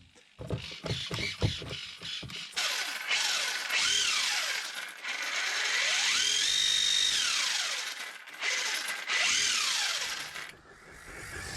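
A steering servo on a ZD Racing brushless 1/8 scale short course truck whirs back and forth in repeated rising and falling sweeps, loud and close, with rapid clicking bursts at the start and no talk.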